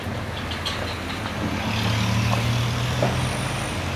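A heavy trailer truck with air brakes rumbles nearby on a hill with a low engine drone, a brief air-brake hiss and a faint high whine near the end.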